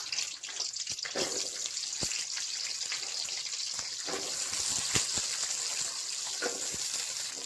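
Small onions frying in hot oil in a pan for a country chicken curry, a steady broadband sizzle with scattered crackles and pops running throughout at close range, with no talking.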